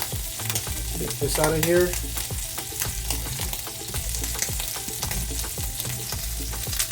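A quesadilla fries in butter in a pan with steady close sizzling and crackle, punctuated by scraping and stirring clicks, while someone speaks briefly over it.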